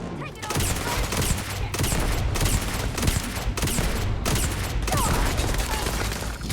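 Dense gunfire from shooting enemies in the game Starfield, rapid bursts of close shots with brief pauses, heavy and continuous throughout.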